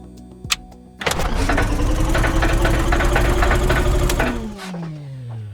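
A simulated Cessna Skylane aircraft engine high-speed starter in a flight simulator whines up with a steady loud mechanical roar and rattling, then spins down with a falling tone.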